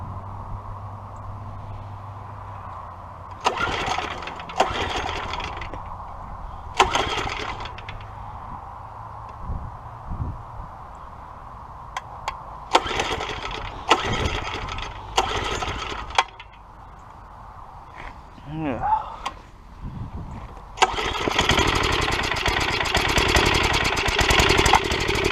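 A small mini bike engine is restarted in cold air, running without a breather: bursts of mid-pitched engine running that stop and start over and over, ending in a louder sustained run, with no voices.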